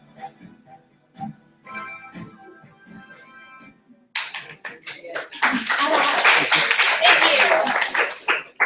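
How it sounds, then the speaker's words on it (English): Audience applause at a university lightning-talk session, beginning as scattered claps over a speaking voice, then swelling into full, steady clapping from a crowd. "thank you for the claps"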